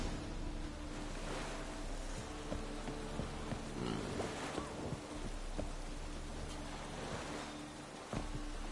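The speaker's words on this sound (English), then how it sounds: "It's raining again." Steady rain hisses throughout at low volume in a video game, with a faint background hum and scattered soft thumps.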